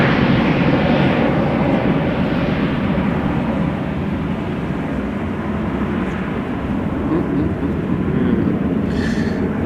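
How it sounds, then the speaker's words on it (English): Embraer 190 jet departing Amsterdam Schiphol, a broad continuous rumbling roar that stays loud and steady throughout, eases slightly midway and rises again, with no one speaking. "Embraer 190."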